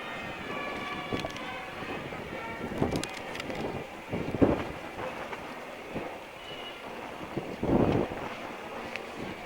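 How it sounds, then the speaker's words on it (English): Wind gusting outdoors at a Veterans Day parade in New Castle, a continuous rumbling buffet with stronger gusts and scattered distant crowd and street noise, no talk. "Wind is always a factor at parades, so it's blowing our papers all over the"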